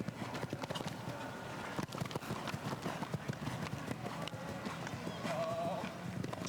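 Hooves of a modern sport horse, the mare Jeunesse, thudding in a steady rhythm over an arena surface during a show jumping round, with a horse whinny and commentary speech over the top.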